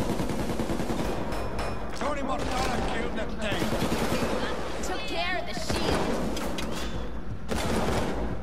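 Gunfire in the shooter game Payday 2, rapid overlapping shots in a dense continuous barrage, loud and close, with voices talking underneath.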